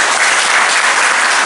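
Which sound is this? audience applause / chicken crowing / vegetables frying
audience applause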